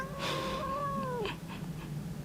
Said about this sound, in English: A very talkative cat.